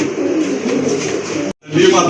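Red checker pigeons cooing close by in a loft, a few soft throaty coos under nearby talk, broken by a brief gap.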